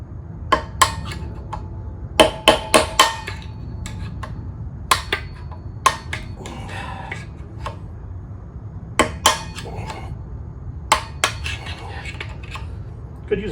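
Sharp metallic hammer blows knocking wheel bearings out of a Honda NC700X motorcycle hub, struck in irregular clusters of clanging hits with ringing clinks, close and loud against a quiet room background.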